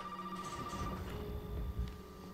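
Telephone ringing in Resident Evil 7, a steady electronic ring tone held across the moment, heard fairly clearly against dim game ambience with no talk.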